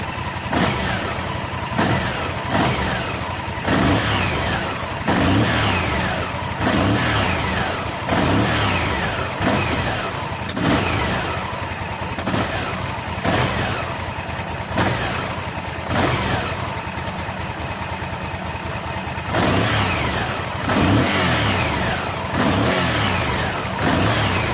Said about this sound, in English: See what it revs like.